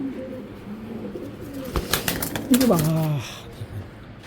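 Tournament-flying pigeons coo nearby in short low rolling calls, with a few louder bursts of handling noise and someone talking over them.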